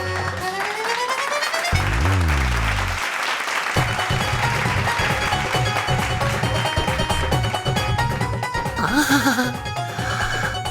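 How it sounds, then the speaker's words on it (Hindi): Crowd applause in a Hindi fantasy TV show scene, sustained and dense clapping blended with background music and sound effects throughout. "पहली बार है मिल रही मुझे तालियां।"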